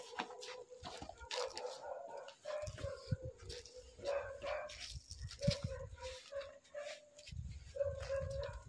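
Dogs bark and yip repeatedly at night in an outdoor setting, a string of fairly distant, moderately faint barks with some whimpering tones over low rumbling background noise.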